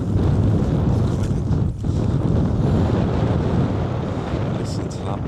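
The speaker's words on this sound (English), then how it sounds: "Listen to that wind." A strong gusting wind at a pond on a windy evening, heard as loud, continuous roaring buffeting across the mic with little letup.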